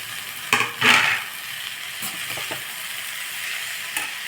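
Cabbage rice tossed and stirred in a hot oiled pan, a steady sizzle running throughout with a few scraping spoon strokes and light clinks up close.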